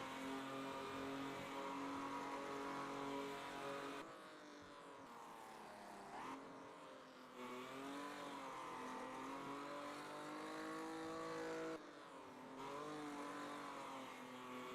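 Race cars in Automobilista 2 driving close together, with loud, steady high-revving engine tones that rise and fall through gear changes and brief dips as they brake into corners.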